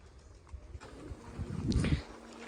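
Pigeons newly brought to a farm give a brief, soft, low coo that swells near the end of a short stretch of faint background noise.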